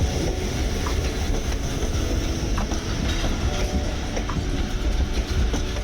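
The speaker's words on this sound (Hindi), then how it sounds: "उस दौरान 11:24 पर डाउन ट्रैक पर हवेलियां से कराची जाने वाली हज़ारा एक्सप्रेस भी नमूदार हुई।" The Hazara Express on the down track at Drigh Road station in Karachi, a loud, steady rumble of rolling stock with faint rhythmic clatter throughout and no voices.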